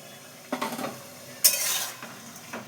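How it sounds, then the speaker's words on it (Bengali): Fried fritters tumble into a simmering bottle gourd curry and get stirred with a utensil, giving three scraping, sizzling bursts against the pot, close and clear with no talk. "এই যে বড়াগুলো করেছিলাম, বড়াগুলো দিয়ে দেবো"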